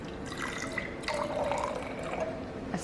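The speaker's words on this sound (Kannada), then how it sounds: "ಇದರೊಳಗಡೆ ನಾನು ನೀರು ಹಾಕ್ಕೊಳ್ತಾ ಇದ್ದೀನಿ" Water trickles and splashes softly into a bowl of tie-dye colour, a faint close pouring sound with small drips and no talk.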